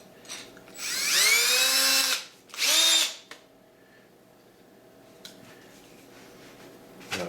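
An auger bit bores into wood while a vertical beehive is being built, whirring loudly in two bursts, a longer one followed by a short second run, then the room falls quiet apart from light knocks and handling.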